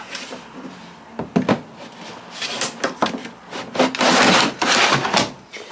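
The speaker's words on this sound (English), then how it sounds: "We'll just put our drawer back." A plastic tumble dryer water drawer is slid back into its slot, a series of close scraping and knocking clicks that ends in a longer rubbing slide.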